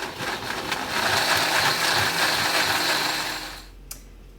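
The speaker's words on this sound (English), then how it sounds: "I have put everything already in the blender." A kitchen blender whirs steadily as it purees tomatillos, chiles, a garlic clove and salt into salsa, a loud grinding motor roar that runs for several seconds and then winds down to near silence.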